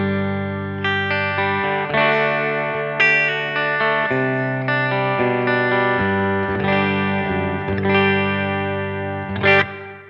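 Shergold Telstar electric guitar through a Blackstar HT20mkIII amp run clean into a Two Notes Torpedo Captor X, steady strummed chords ringing out with sustained harmonic tones, close and full for about ten seconds with no talk.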